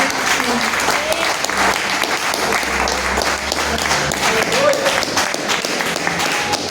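A church congregation breaks into sustained, dense applause that fills the room at a steady level throughout, with voices faintly mixed in.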